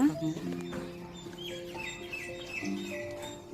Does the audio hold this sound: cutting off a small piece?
no